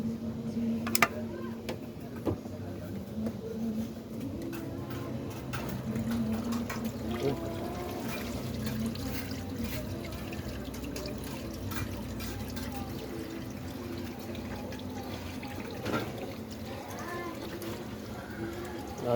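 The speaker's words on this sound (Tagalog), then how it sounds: "Drain natin kung nagana yung drain." Water drains from a washing machine just back from repair, a steady liquid trickle and drip running for the whole stretch, with occasional clanks and a voice talking over it.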